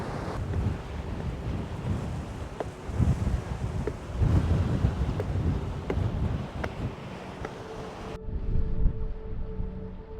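Strong gale wind buffets the microphone alongside breaking waves and surf at sea off Gullholmen on the Swedish west coast, during a sailing race; steady, loud rushing roar with gusts, cutting out abruptly near the end.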